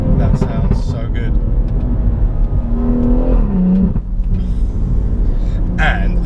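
A BMW M140i Shadow Edition, tuned to 430 bhp, revs hard while driving, its engine rumble steady and loud with a rising pitch sweep midway, voices talking over it.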